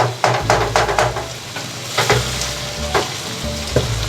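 Whole coriander seeds and whole chillies drop into a hot pot of oil for mutton stew, setting off a loud steady sizzle with several sharp crackling bursts and the scrape of stirring.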